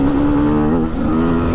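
MOTOPRO 300 motorcycle engine running steadily with a torquey, continuous drone, loud and close, with only a slight dip in revs midway and no talk over it.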